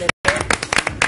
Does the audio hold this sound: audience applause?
yes